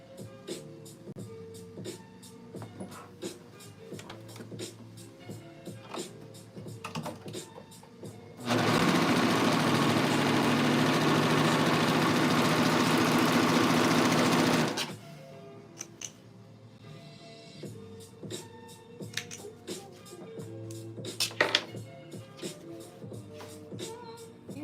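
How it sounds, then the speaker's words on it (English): A sewing machine stitches fabric pieces together along the sides, a loud steady mechanical whir running for about six seconds in the middle, with quieter clicks and handling noises before and after. "I'm just gonna sew these together. At the sides."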